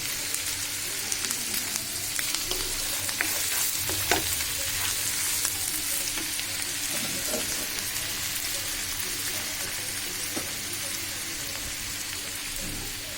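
Beef vorta frying in a pan while being stirred, a steady close sizzle with scattered crackles and occasional scraping taps throughout.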